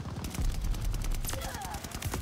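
Rapid bursts of gunfire crackle through a Call of Duty Vanguard multiplayer match, dense and sustained over the whole stretch and mixed with other battle noise.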